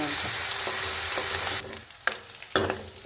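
Garlic and green chili frying in a pan for Rajasthani kadi, a loud steady sizzle that drops off midway, followed by a few sharp stirring scrapes against a quieter sizzle.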